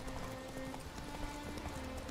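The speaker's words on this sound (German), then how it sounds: "wir müssen jetzt wirklich noch ein bisschen reiten, Freunde" Horse hooves clip-clopping in a steady galloping rhythm while riding through The Witcher 3: Wild Hunt, with game ambience and a faint musical drone underneath.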